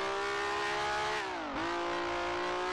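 A vintage race car in Grand Prix Legends holds a loud, steady engine drone, then the revs dip sharply and climb again as it slides under acceleration, close and continuous.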